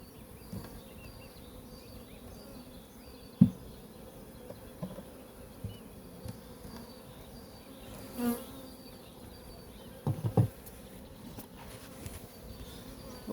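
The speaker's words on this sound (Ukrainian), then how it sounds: "Ось така кількість тут бджоли." Honeybees buzz softly around open hive frames during a colony inspection, a low continuous hum with a few louder bursts as single bees pass close, and faint handling knocks.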